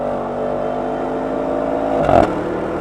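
Porsche Cayenne GTS Coupe V8 engine and exhaust holding a steady, higher-pitched drone, then a short sharp rev flaring near the end, close and loud.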